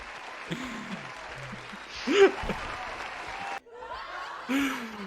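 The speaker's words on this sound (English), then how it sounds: "There's laughing and then they stand up and start clapping" Canned studio-audience laughter swells into chuckles and then breaks into a burst of clapping, loud and close, with the laughter returning near the end.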